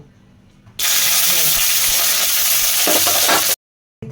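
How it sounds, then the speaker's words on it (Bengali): Garlic and green chilies hit hot oil in a pan with a sudden loud, close hiss that holds steady for about three seconds and then cuts off abruptly. "একটু তেল দিয়ে নিলাম, দিয়ে রসুন আর কাঁচা লঙ্কাটা একটু হালকা করে ভেজে নেব"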